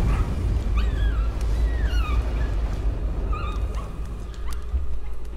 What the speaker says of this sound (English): Oh, dog! Hey, dog.